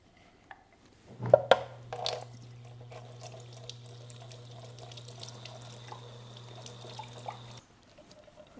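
A glass is washed under a running tap with soap: a steady stream of water runs into a sink, with a few clinks and knocks early on, then stops.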